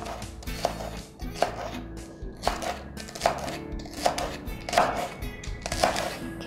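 A knife chopping green onions on a cutting board for a seafood meal, a close series of sharp regular thuds at a steady brisk rhythm with no talking.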